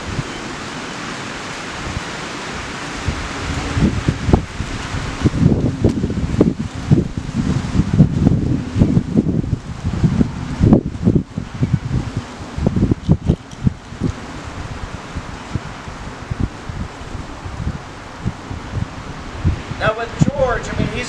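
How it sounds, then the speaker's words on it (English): Strong gusting wind outdoors, around forty miles an hour, roars against the microphone as broad rushing noise that swells and buffets in uneven gusts and stays loud throughout. "40-mile-an-hour winds today, or wind gusts, so it's a little distracting"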